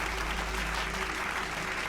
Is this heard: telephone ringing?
no